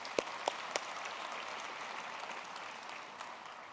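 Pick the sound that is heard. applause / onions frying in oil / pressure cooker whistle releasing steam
applause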